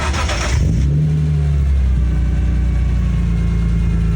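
A car engine revs loudly through its exhaust, flaring briefly at the start and then settling into a deep, steady, throaty drone close by, with no talking.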